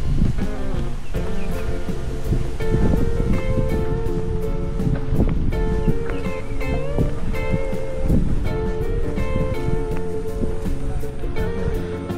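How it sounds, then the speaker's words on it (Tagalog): A loud, constant roar of strong wind buffets the microphone on the water at Cavinti, Laguna, mixed with what sounds like surf and a steady tonal background hum. "Mahangin na malakas."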